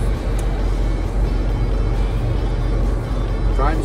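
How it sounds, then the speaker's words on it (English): A 1982 Ford Brougham cruising on a freeway on new tires, with a steady loud road and engine roar and wind noise that hold throughout with no breaks. "First little distance on the freeway with the new tires."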